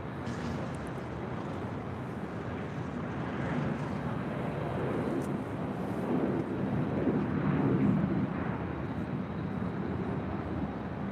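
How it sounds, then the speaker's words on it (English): An American Airlines Boeing 737-800 departs LAX for Chicago O'Hare, heard as a broad, steady jet roar that swells slightly midway and stays fairly distant, with no voices. "that was American Airlines Flight 1504 heading to Chicago O'Hare in the 737-800"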